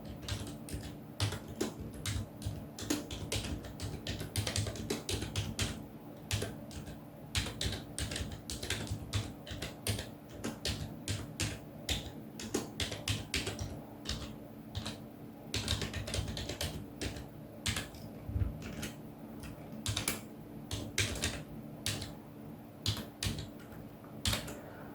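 Continuous rapid keystrokes on a computer keyboard as commands are entered into an Ubuntu terminal, close, crisp clicks in an uneven flowing rhythm over a steady low hum.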